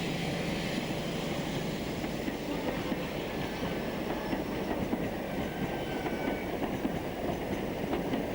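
HST diesel train on a daytime London King's Cross service, a steady, loud rumble of engine and rolling wheels with faint clickety-clack, continuous and close throughout.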